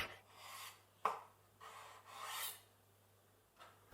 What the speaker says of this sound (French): on écrase nos graines dans un mortier ou avec la lame d'un couteau